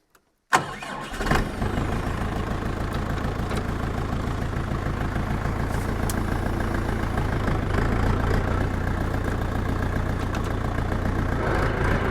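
A Dongfeng 404 tractor engine cranks and catches after a brief pause, then settles into a steady, rumbling idle that runs unbroken to the end, close and fairly loud.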